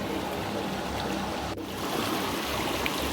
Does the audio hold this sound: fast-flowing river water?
yes